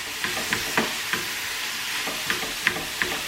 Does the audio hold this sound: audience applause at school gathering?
no